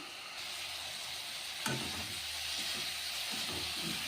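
Ground cumin and chili powder sizzle in hot oil for a fish curry, a steady broadband frying hiss with a brief sharp crackle midway, close and continuous with no talk.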